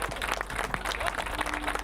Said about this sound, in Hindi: फिर से तालियों का साथ।